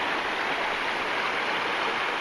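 Water of Citico Creek flows steadily in a continuous broadband rush, close and loud, with no voices over it.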